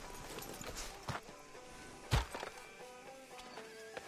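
In the Red Dead Redemption 2 video game, a horse's hooves clop in scattered, fairly faint steps outside a sheriff's office, with a sharper louder thump midway and background town ambience.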